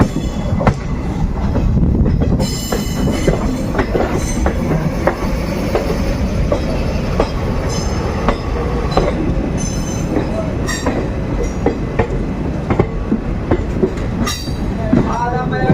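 The 13175 Kanchanjunga Express from Sealdah to Guwahati rolls steadily along the rails, with a loud continuous rumble, repeated wheel clicks over joints and occasional squeals, heard up close from on board.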